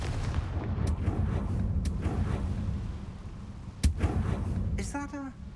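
A single sharp spell blast from Confringo in Hogwarts Legacy bursts out over a low game rumble, followed moments later by a brief chirping effect.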